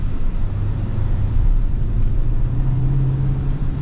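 A 2026 GMC Sierra 3500 AT4 heavy-duty pickup drives steadily, its low engine and road rumble loud and continuous inside a well-insulated cab, with a faint rising drone under the hum and no talking.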